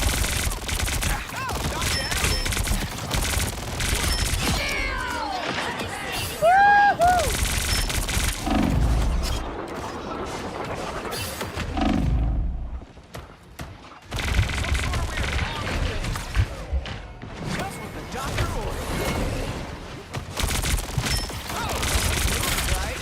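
Rapid gunshots and machine-gun bursts rattle through a competitive video game match, dense and loud for most of the stretch, with a short lull midway before the shooting picks back up.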